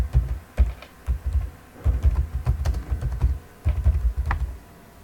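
Rapid typing on a computer keyboard, a steady run of close, crisp key clicks in bursts with brief pauses, no voices.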